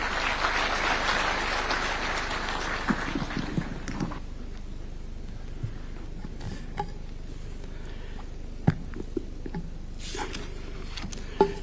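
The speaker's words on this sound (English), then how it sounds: "A round of applause." A crowd at a national health summit in Kenya claps for the Cabinet Secretary for Health; a dense burst of applause opens and fades within a few seconds, leaving a quiet hall with a few scattered knocks.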